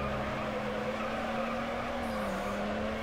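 Sustained tire skid and engine drone from a car drifting in Need for Speed Underground, a steady loud screech with a slowly wavering engine tone held throughout, no voices.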